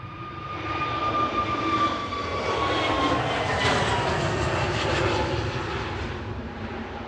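A Sun B airliner departs Manchester Airport bound for Lanzarote, its engines a loud, sustained roar with a steady whine that swells and slowly fades as it climbs away, alone without talk.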